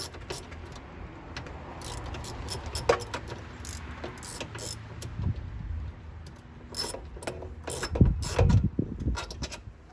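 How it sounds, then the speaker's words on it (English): A 10mm socket ratchet loosening bolts on a 1990-1997 Mazda MX-5 Miata during headlight motor removal, heard as close metallic clicks, ticks and rattles in irregular bursts with a few louder knocks near the end. "now 10mm socket, we're going in. Remove these bolts. We're going to turn them counterclockwise"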